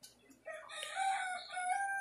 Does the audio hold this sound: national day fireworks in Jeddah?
no